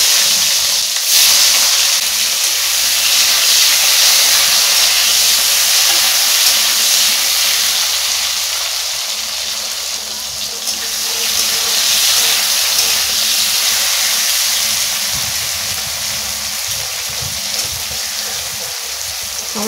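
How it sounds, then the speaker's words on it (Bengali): Tomatoes cut into long pieces sizzle in leftover fish-frying oil tempered with black cumin, for a katla fish curry with mustard paste; a loud, steady hiss of frying runs throughout. "টমেটোগুলো ভেজে নেব"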